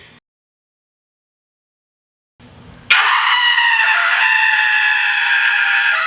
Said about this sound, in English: Scream with the door open.